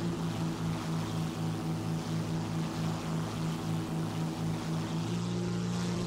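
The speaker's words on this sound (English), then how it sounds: "Now here comes an SBD-3, another bomber." A propeller engine of an SBD-3 bomber plane in the War Thunder video game drones steadily, a loud, even, throbbing hum that holds for several seconds before shifting pitch slightly near the end.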